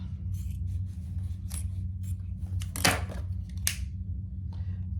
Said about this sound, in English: And then we'll cut that excess zipper off with my zipper scissors.